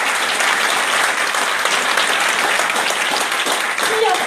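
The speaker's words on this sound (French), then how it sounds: "on peut l'applaudir parce qu'elle fait un sacré boulot." Steady applause from the audience at a public campaign meeting for the European elections in Auxerre, dense clapping filling the room at an even level throughout with a faint voice briefly heard near the end.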